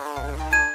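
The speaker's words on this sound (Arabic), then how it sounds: "نحلة. نحلة." A bee buzzing in a short children's alphabet lesson, a brief steady low hum that is close and clear and ends with a bright chime.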